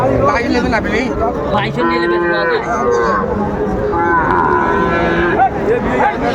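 Young Sahiwal cattle at a Rajshahi livestock market moo repeatedly in long, tonal calls, close and loud, while people talk and bargain steadily around them.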